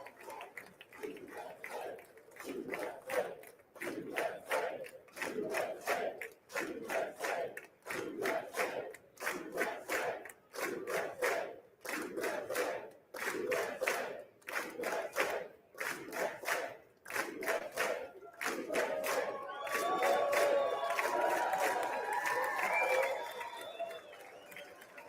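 Audience at a joint session of Congress claps and cheers in loud, rhythmic bursts that swell toward the end, a packed chamber roaring in waves.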